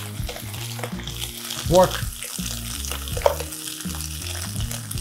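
Broccoli rabe fries in oil in a pan, a steady busy sizzle as it is tossed, with knocks and scrapes of a utensil and a brief spoken word.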